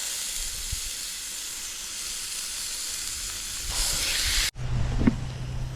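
Ground beef sizzling in a pan over an outdoor campfire, a steady close hiss that swells louder near the end, breaks off for a moment, then resumes with a low hum beneath it.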